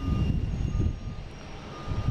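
A Delta Airbus A330 airliner arriving from Athens gives off a steady low engine rumble that holds at moderate loudness throughout, with nobody speaking.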